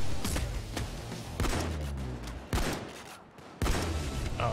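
Gunfire in the heist video game Payday 2 during a shootout outside a diamond store: repeated loud bursts and heavy thumping shots in clusters, with a dense noisy rattle between them.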